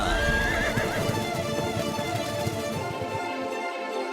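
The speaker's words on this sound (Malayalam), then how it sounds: "ഈ കുതിര കരയുന്ന ശബ്ദം ഇപ്പോ എവിടുന്നാണ് വരുന്നത്?" A horse neighs and whinnies loudly and close, with clip-clop hooves beneath, the call sounding over a busy, full background that fades toward the end.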